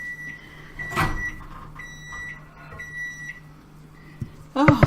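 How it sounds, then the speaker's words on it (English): A series of short, high electronic beeps from a microwave oven repeat at a steady pace, with a clatter and muffled sounds at the end. "this microwave's being a pain"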